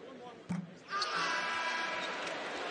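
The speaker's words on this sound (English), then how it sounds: "You can hear the crowd, and they appreciate the effort that Lance Jones has given guarding the basketball." Crowd cheering in a college basketball arena during a Purdue versus Michigan game, a sustained roar rising after a sharp thump, with a commentator talking at the start.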